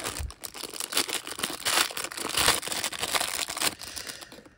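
A boxed Jurassic World Tyrannosaurus rex figure being unpacked, with continuous loud crinkling and tearing of plastic and cardboard packaging close to the mic.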